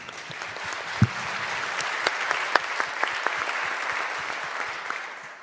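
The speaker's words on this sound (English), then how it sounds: "Round of applause, please." An audience at a conference claps together for several seconds, a dense patter of hands with a few sharper claps standing out, tapering off at the end.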